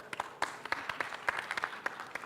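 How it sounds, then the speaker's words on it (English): A crowd applauds with steady, dense clapping throughout, moderately loud with no voices over it. "Let's give him a round of a big applause."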